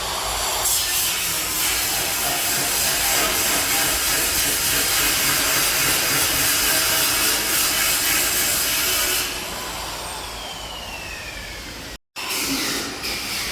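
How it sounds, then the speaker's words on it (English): A polishing wheel works the surface of a stainless steel work table in a factory, giving a loud continuous abrasive hiss and rub that eases off toward the end after a brief dropout. "Next, we use a polishing wheel to further smooth the surface."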